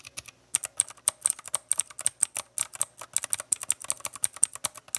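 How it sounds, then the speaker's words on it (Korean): Someone types on a Keychron K6 mechanical keyboard fitted with blue switches, producing rapid, crisp, clicky keystrokes that sound close and sharp in a quiet room with no talking. "청축의 소리입니다."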